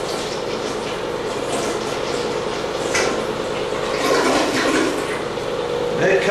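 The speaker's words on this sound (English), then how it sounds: "I like to flush this a couple times before I call it good." A toilet with a newly repaired handle flushes, a continuous close rush of draining water with gurgling that swells and churns toward the end.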